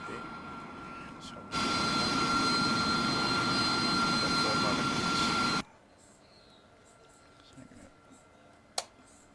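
Simulated Harrier jet engine in a DCS flight simulator, a loud steady roar with a high whine that holds for about four seconds, then cuts off sharply, leaving a quiet hum and a single sharp click near the end.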